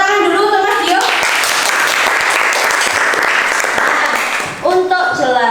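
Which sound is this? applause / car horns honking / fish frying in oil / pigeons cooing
applause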